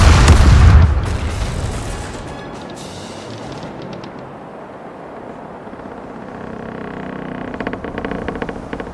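Cannons firing round shot in a Caribbean Legend naval battle open with a heavy, loud broadside boom that rolls off into a long rumbling tail, followed by sea ambience and crackling distant reports.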